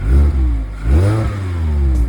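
A Mazda MX-5 on its stock exhaust revs to about 3000 rpm, giving two loud rising blips of a mid-pitched engine sound close by, heard alone without talk.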